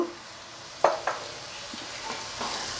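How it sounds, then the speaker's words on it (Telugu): Fish curry masala with garam masala frying in a pan, a steady soft sizzle underneath two sharp spoon clinks against the pan and some light stirring scrapes, close and alone without talking. "ఇది ఒక్క నిమిషం వేయించుదాము"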